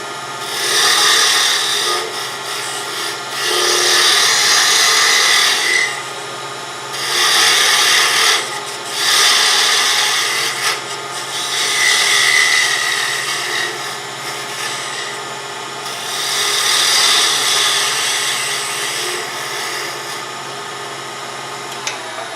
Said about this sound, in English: now we'll just take a parting tool and we'll cut that, turn the speed back up